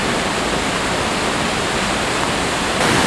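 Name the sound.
Koosah or Sahalie waterfall roaring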